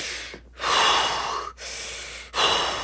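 A person imitates heavy, angry breathing used to calm down, with forceful drawn-out breaths through the nose separated by short pauses, loud and close, with no other voices.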